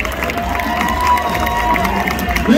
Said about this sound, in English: Keep that applause going for all of the stars of the show.